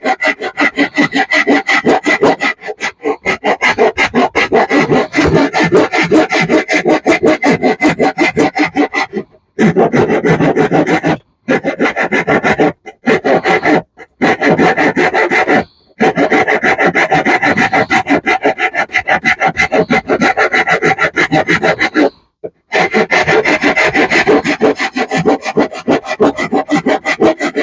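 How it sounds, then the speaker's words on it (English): Hand rasp working a piece of wood in a woodworking shop, steady loud back-and-forth scraping strokes with a few brief pauses, and a faint tapping from a running bandsaw in the background. "A little bit of rasping."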